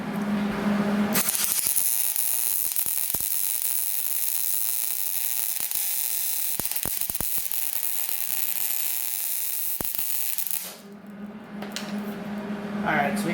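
A washer is welded onto a broken exhaust bolt on an LS-swapped Nissan 350Z, a harsh continuous crackling buzz lasting about ten seconds, with scattered pops, before it stops and a low hum remains.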